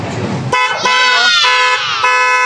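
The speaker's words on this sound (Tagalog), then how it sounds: "subukan na yung ating busina" A loud, close Honda ADV 175 motorcycle horn blares continuously for about two seconds after a brief noisy moment.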